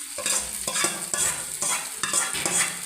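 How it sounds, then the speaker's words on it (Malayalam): Tempered mustard seeds sizzling in a pachadi, with a steady crackling sizzle and repeated scraping stirs in a rough rhythm, close and alone without speech. "ഈ തളിച്ച കടുവ് എടുത്ത് നമുക്ക് ഇതിനകത്തോട്ട് ഒഴിക്കാം"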